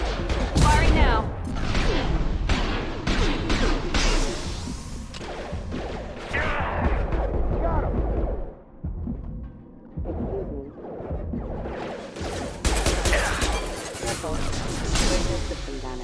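Heavy weapon fire and crashing impacts in a Mass Effect battle against mechs, loud bursts of shots and explosions dominating, a brief quieter lull partway through before the barrage resumes, with combat voices over it.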